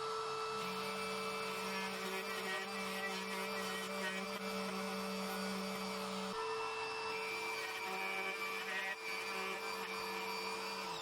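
A power tool cuts mortises in wooden table legs with a continuous loud whirring drone, steady throughout with a shift in pitch partway through, close by.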